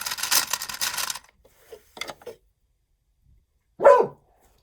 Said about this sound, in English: That's my dog who thinks somebody's at the door.